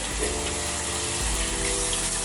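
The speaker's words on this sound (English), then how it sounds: "rinse my hands" Running tap water pours steadily in a bathroom sink while hands are rinsed, a close, constant gushing with no talk.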